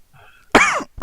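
A single short, harsh cough comes right after a brief quiet stretch, followed by the start of a second cough burst, close and loud, with no talk.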